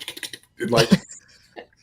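Rapid keyboard typing, a flurry of close key clicks followed by a louder burst of taps and a few scattered strokes, with a voice talking briefly in between.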